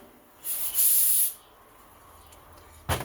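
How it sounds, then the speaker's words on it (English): Carb cleaner sprays into a Husqvarna 136 chainsaw in one sharp hissing burst of about a second, close up, followed by quiet and a brief knock at the end. "We'll give her a little shot of carb spray in there."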